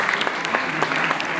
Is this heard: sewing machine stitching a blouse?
no